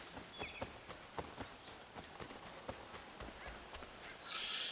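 Steady clip-clop of horse hooves walking at an even pace in the video game Assassin's Creed III, crisp and close, with a brief burst of hiss at the end.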